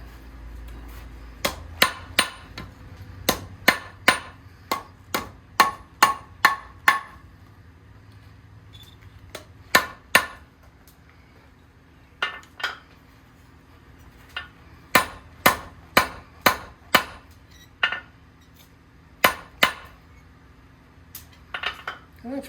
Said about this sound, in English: hammer down again on the side of the anvil, using its flatness to encourage everything to get straight again